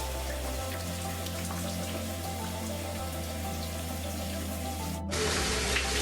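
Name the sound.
water rinsing conditioner out of hair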